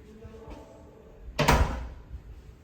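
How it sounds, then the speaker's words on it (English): A door in a holiday apartment bathroom swings shut with one solid thump, preceded by faint handling sounds, close and alone. "Let's close the door."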